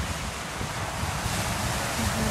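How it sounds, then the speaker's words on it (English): A flowing fountain in a Christmas-decorated shopping area at Turkey Creek gives a constant, loud, broad rush of splashing water, steady throughout with no voices. "There's the fountain. It's flowing."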